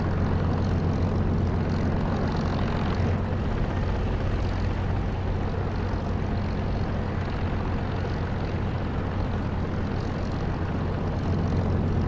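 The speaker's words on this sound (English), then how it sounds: "You've got a Spitfire." A Spitfire's piston engine drones steadily in the DCS flight simulator, a loud continuous propeller-aircraft roar with a low harmonic hum that holds for the whole stretch without a break.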